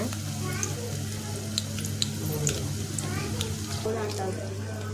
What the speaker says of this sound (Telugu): నూనె పొయ్యి మీద పెట్టి ఒక చిన్న ఉల్లిగడ్డ కోసి తాలింపుకి వేసిన